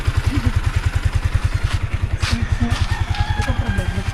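A motorcycle engine that starts after switch trouble and idles with a rapid, even putter, close and loud throughout, while a rooster crows and a voice speaks faintly in the background.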